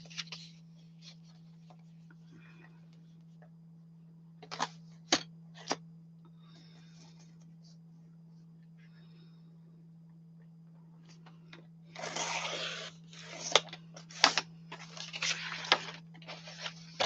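A paper slicer cutting craft paper, a few sharp clicks and short scrapes, then a louder burst of dry sliding and cutting sounds near the end, over a low steady hum in a quiet room.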